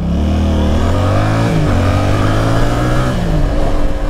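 A Yamaha Tracer 7 motorcycle with Akrapovic exhaust pulls away from a standstill, its loud, close roar rising in pitch as it accelerates.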